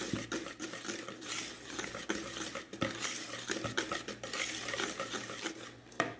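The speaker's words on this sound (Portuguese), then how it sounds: "Peneirei a farinha, tô aqui com o meu fouet e vou misturar" A whisk stirring sifted wheat flour into a buttery coffee cake batter in a bowl, a steady scraping and clinking rhythm that runs continuously, close and fairly quiet, with no talking.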